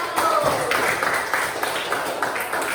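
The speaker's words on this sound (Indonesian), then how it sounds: "Tepuk tangan untuk kelompok 1" Applause for the first student group in a classroom, a steady patter of many hands clapping throughout, fairly close, with some voices mixed in.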